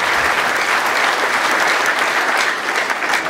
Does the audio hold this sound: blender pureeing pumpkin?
no